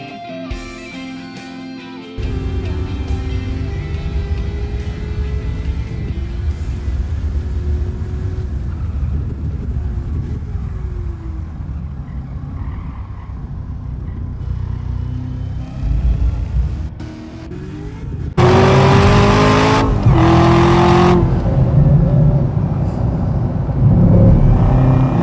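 A Camaro ZL1 laps Laguna Seca in Gran Turismo 7, its engine droning steadily with pitch rising and falling through shifts and corners, then surging louder near the end under hard acceleration.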